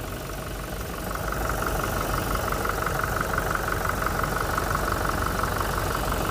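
A 2.4-litre car engine idles with a steady, even mechanical hum and a faint regular pulse, running alone at close range with no talking.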